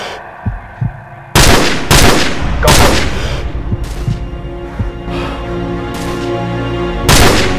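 Loud gunshots from a Call of Duty: Modern Warfare firefight crack out in a burst of about six, some close and some farther off, with low throbbing game music and scattered lighter shots between them.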